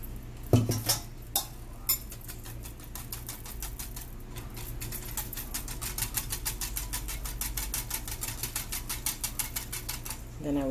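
A spoon clinks against a pot as milk is stirred into a sugar mixture: a few sharp knocks, then a fast, steady run of light metallic taps, with no one speaking.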